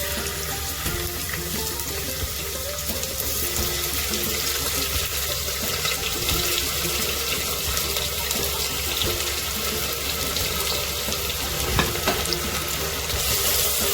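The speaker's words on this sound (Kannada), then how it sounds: "ಇದು ಚೆನ್ನಾಗಿ ಫ್ರೈ ಆಗಲಿ." Two finely chopped onions frying in hot oil in a home kitchen pan, giving a loud, continuous sizzle and crackle that stays steady throughout, with occasional small stirring clinks.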